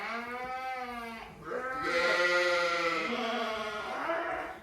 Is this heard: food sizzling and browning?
no